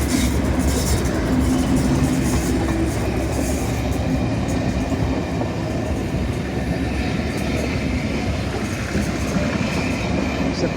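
A Railway Touring Company train, a class 37 with a buffet car, rumbles steadily past nearby, with a continuous loud roar of wheels on track and faint rhythmic clatter for the whole stretch.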